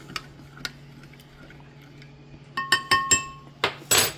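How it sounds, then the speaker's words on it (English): A spoon taps and clinks against a glass bowl while a gelatin mixture is stirred, starting with sparse light ticks and building into a run of louder, ringing knocks near the end. "You want to stir this so that you get it mixed in properly."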